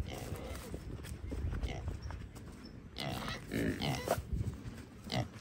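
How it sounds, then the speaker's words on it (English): Pigs on a homestead grunting and snuffling nearby as they expect feeding, with footsteps and rustling around them and a person speaking over the noise. "The pigs see me, and they think I'm going to feed them"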